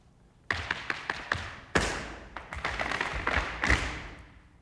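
Sharp shoe taps and heavy stamps strike a hard floor in quick rhythmic bursts, close and loud, with no voices.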